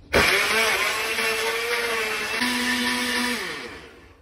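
A blender whirs loudly and steadily for about four seconds while mixing banana with fresh milk into a shake. Its motor pitch shifts midway before the sound tapers off at the end, with no talking.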